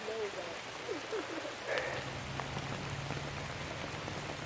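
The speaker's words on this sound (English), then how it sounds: "It's pouring down rain." Heavy rain pours down onto a tent at a primitive campsite in Louisiana, a dense steady hiss close by with a few faint voices and small sounds briefly under it.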